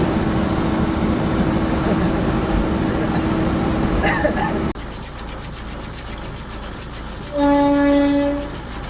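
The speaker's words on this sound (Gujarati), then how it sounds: "વચ્ચે થોડીક ટ્રેન આવી ગઈ છે, ફાટક બંધ છે" A train passes a closed railway level crossing near Dhola Junction, rumbling steadily before the sound drops off abruptly, then a horn blares once, loud and sustained, before trailing away.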